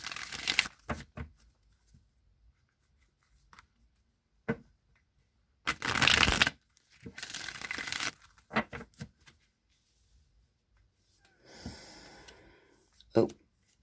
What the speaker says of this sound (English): I'm just going to shuffle the Rider-Waite deck for you guys who picked pile number 2